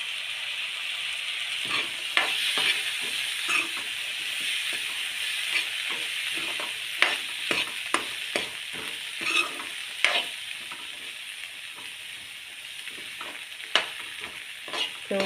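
Cowpeas and peanuts frying in a pan for a Maharashtrian colocasia leaf curry, a steady sizzle with repeated stirring scrapes and clinks throughout, close and moderately loud, with no talking.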